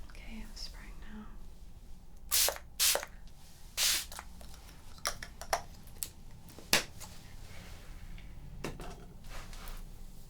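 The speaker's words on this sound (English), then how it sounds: "just going to spray glow mist to keep the eyes shut" Short, sharp hisses from a spray bottle misting glow mist onto a person's face, several bursts in a quiet room, with soft whispering between them.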